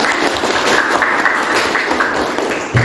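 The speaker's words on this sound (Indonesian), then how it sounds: "Tepuk tangan." A classroom of students claps together in steady, continuous applause, loud and close, with a dense wash of hand claps filling the whole stretch before it tails off at the very end.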